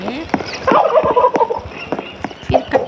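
Chickens in the video game 99 Nights in the Forest, a string of short, rapid clucking and gobbling calls in bursts, close and fairly loud.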